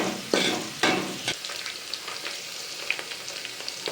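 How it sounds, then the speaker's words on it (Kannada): Onions frying in hot oil for mushroom biryani, with a couple of loud scraping stirs at the start, then a lively crackling sizzle and scattered pops. "ಈಗ ಈರುಳ್ಳಿ ಆ್ಯಡ್ ಮಾಡ್ಕೊಳ್ಳಿ ಈರುಳ್ಳಿ ಹೊಂಬಣ್ಣ ಬರೋವರೆಗೂ ನೀವು ಫ್ರೈ ಮಾಡ್ಕೋಬೇಕಾಗುತ್ತೆ"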